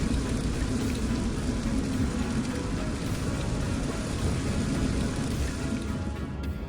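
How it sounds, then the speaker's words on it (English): Dense, steady rainfall as a sound effect for diamond rain on Neptune, a loud continuous hiss and patter with deep rumbling underneath, unbroken throughout and with no voices. "Diamond rain, falling forever into the dark."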